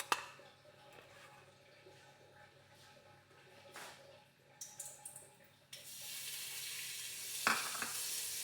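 Ghee sizzles in a pan for butter chicken, faint and intermittent at first with a few clinks, then rising to a louder, steady frying hiss for the final seconds.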